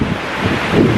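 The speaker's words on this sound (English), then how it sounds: "this patch of woods was blocking a lot of that wind" Strong wind roars through a patch of woods in cold high winds, a loud, broad, continuous rush buffeting close to the microphone.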